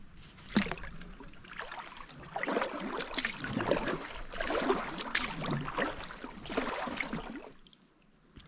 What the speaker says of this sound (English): Be able to just paddle around in this flooded forest.